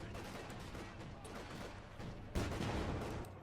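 Machine-gun and autocannon fire from an armored car and infantry in a Company of Heroes 2 World War II battle, a dense continuous rattle of bursts with a louder crack near the end, mixed with battle noise.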